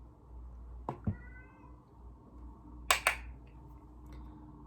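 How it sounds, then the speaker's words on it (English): A cat meows twice, fairly quiet and indoors, with sharp clicking taps in between and a low background hum. "If you hear my cat meow, like, I'm sorry, he won't be quiet"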